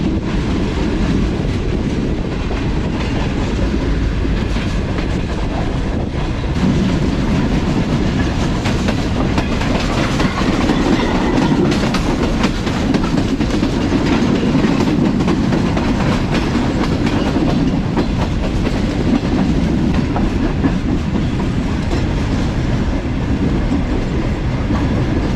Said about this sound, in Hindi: आहिस्ता आहिस्ता मूव हुई है ट्रेन बिन कासिम रेलवे स्टेशन से।